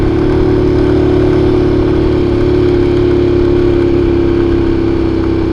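Steady, loud motorcycle engine drone while riding, with a constant mid-pitched hum and wind rush and no pauses.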